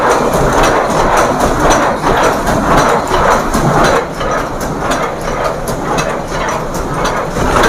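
A paper cup making machine runs loud and close, producing a continuous mechanical clatter with quick repeating pulses from its moving parts, and no one speaks.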